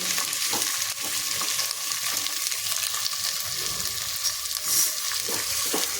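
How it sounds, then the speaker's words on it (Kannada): Vegetables, capsicum among them, sizzle steadily in a hot pan for a mushroom pulao, with a close, continuous hiss of frying and occasional scrapes as they are stirred. "ತರಕಾರಿಗಳು ಚೆನ್ನಾಗಿ ಬೇಯಲಿ"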